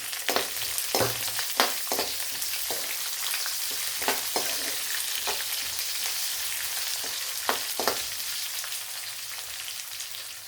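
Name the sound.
green chilies and onion frying in oil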